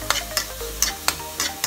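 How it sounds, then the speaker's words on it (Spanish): Refrito for Ecuadorian guatita sautéing in a pan while being stirred, with quick scraping strokes about every half second over a steady low sizzle. "Lo voy a sofreír bien o le voy a mover bien"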